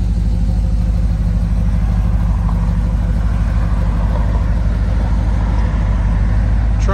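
The engine of a 1963 Chevrolet Impala runs in a steady, continuous close-up rumble with no break or voices.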